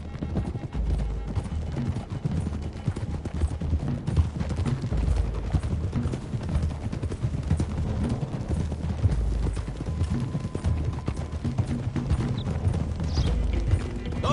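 Horse hooves clip-clop steadily through a ride in Red Dead Redemption 2, with riders moving along a road toward the hills; the rhythmic trotting runs continuously and loud throughout, with occasional faint whinnies mixed in.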